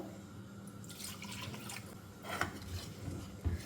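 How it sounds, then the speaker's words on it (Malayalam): A cup of cold water pours and trickles into a pan of garlic chicken, a quiet splashing stream with a couple of small clunks near the end. "ഒരു കപ്പ് വെള്ളം കൂടെ ഒഴിക്കാം തണുത്ത വെള്ളമാണ് ഒഴിക്കുന്നത്"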